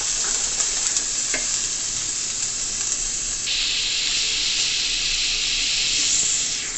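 Vegetables and herbs sauté in a hot pan for a stir fry with cabbage, giving a steady, bright sizzle and hiss with a few stirring scrapes, and the frying grows louder partway through.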